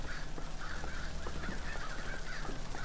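Crows caw from a trap in the video game Bioshock Infinite, a dense, harsh flock of cawing calls repeating over steady game ambience throughout.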